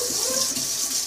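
Water running steadily from a tap while a toy pony is washed under the stream, a close continuous hiss and splatter with no other sounds.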